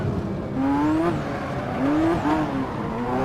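Ferrari F40 engine screaming at high RPM in Assetto Corsa on a mountain highway climb, a loud continuous racing roar with rising pitch sweeps as it revs through gears, close and steady throughout.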